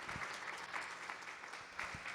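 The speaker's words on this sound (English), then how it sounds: "Can we applaud for ourselves for just a moment here?" A conference audience applauds, sustained clapping heard at a moderate distance and fairly soft, with a few sharper individual claps standing out.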